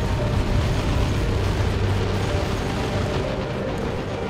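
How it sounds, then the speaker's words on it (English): In the Dawn of War II: Retribution video game, an autocannon Havoc unloads amid explosions, a dense, continuous barrage of booming blasts and mechanical clatter throughout. "And this autocannon Havoc also just unloading in."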